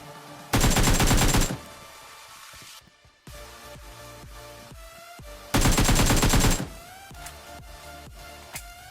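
Automatic gunfire in PUBG Mobile rips out in two loud sustained bursts about a second long each, separated by quieter in-game clicks and movement sounds, with no voices.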